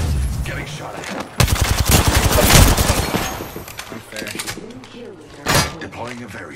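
Bursts of rapid automatic gunfire in Apex Legends, loud and clustered in the first half with a later sharp burst, mixed with game effects and talk.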